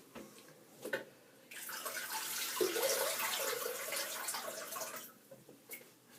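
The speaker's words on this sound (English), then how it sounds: "the razor rinses out really well because of those big holes" Running tap water splashes steadily as a 'Marvel' safety razor from Fine Accoutrements is rinsed under it after a shave, with a few clinks and taps at the start and end, fairly quiet and close.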